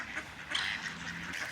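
Ducks quack in a busy cluster while being fed oats, several harsh calls overlapping closely and fairly loud, with no talk.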